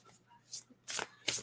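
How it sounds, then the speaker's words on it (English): Tarot cards being shuffled by hand, three quick papery riffles of rising loudness with short pauses between, close and clear with no talking. "I always shuffle like this."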